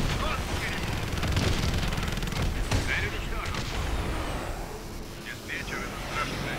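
Dense, continuous gunfire and explosions in the video game Call of Duty: Advanced Warfare, loud and sustained, with aircraft noise mixed in.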